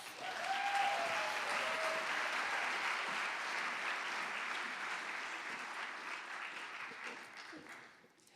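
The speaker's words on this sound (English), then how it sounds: "Let's give them another round of applause." A crowd at a Martin Luther King Jr. birthday celebration applauds steadily, a dense sustained clapping that holds strong for several seconds before tapering off at the end.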